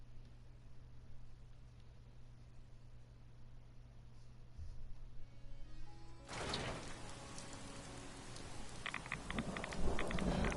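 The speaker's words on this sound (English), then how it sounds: "Oh, radiation storm." Radiation storm thunder in Fallout 4 bursts in abruptly after several seconds of low, steady hum, becoming a loud, broad rumbling hiss that keeps building to the end.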